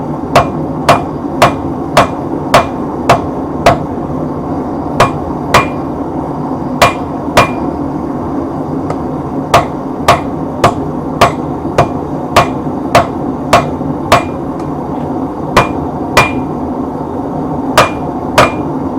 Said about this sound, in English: Holding on a little bit of an angle to favor the bevel and pounding it